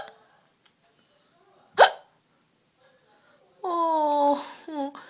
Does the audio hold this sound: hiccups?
yes